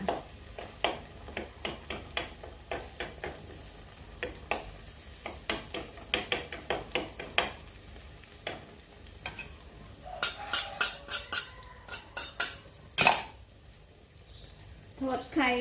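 Fish fries in sizzling oil in a pan under a series of sharp scraping and stirring clicks, with bursts of louder crackle near the end.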